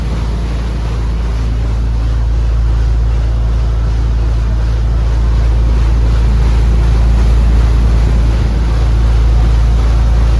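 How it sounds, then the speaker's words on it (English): Steady low engine drone of the Elizabeth River paddle wheel ferry between Norfolk and Portsmouth, with water washing and wind buffeting the microphone, continuous and fairly loud, no voices. "My second time on a water wheel powered boat."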